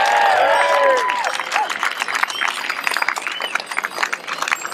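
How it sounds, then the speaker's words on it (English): A crowd at an outdoor cycling rally in Scotland breaks into cheers and whoops that give way to scattered clapping and applause, loud and close, with voices shouting throughout. "So I think we should give Aberdeen a huge big cheer as well."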